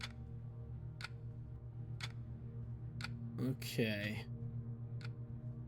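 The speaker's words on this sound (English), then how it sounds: "That clock is getting louder and louder." A clock in the Sermon horror game ticks steadily about once a second over a low droning ambience, with a brief spoken word from a player breaking in partway through.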